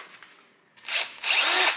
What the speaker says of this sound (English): now I have in here my electric drill, and I am planning to do a couple of holes